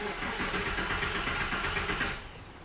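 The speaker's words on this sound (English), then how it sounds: "So now it is time to try and turn it over." A Porsche 996 engine with its fuel pump fuse pulled cranks over steadily on the starter, a rapid rhythmic churning that holds for a couple of seconds before tapering slightly, heard close without voices.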